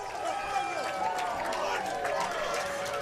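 A baseball crowd at a Hamilton Cardinals game murmurs and cheers after a home run, a broad, steady roar in the stands beneath a commentator speaking throughout.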